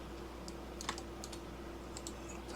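Computer keyboard keys pressed for Blender shortcuts click in a few quick, light taps and short clusters, near and quiet over a low steady hum.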